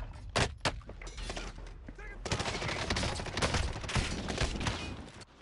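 Rapid gunfire rattles through a video game match, with a couple of sharp shots at the start and then a dense run of bursts, while players talk over it.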